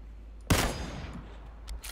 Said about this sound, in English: I've got people shooting at me.